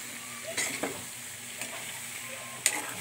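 Butter garlic shrimp being stirred in a frying pan, with a soft steady sizzle and a few clinks and scrapes of the utensil against the pan.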